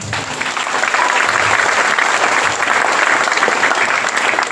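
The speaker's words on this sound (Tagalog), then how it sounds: "Yung pong palakpak sa Panginoon." A church congregation at a youth camp gives loud, sustained applause, a thick wash of many hands clapping at once, steady and close throughout.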